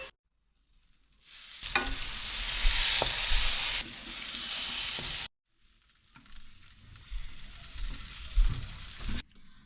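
French toast sizzles and spits in a frying pan in two bursts separated by a short silence, with occasional clinks and scrapes of a utensil, close and moderately loud.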